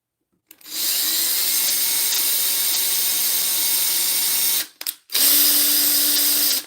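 A power drill whines steadily for about four seconds, stops briefly, then runs again in a second loud burst, drilling into hardened sculpting material, close up with no talking.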